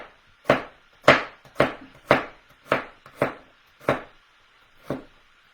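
Knife slicing a large quartered radish very thin on a cutting board: eight crisp, separate chops at an uneven, unhurried pace, close and clear against a quiet background.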